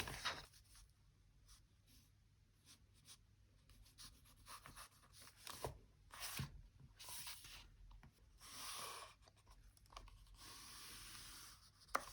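A pen writing on sketchbook paper, soft close scratching and rubbing strokes in short irregular bursts with brief pauses between words, quiet and intimate with no talking.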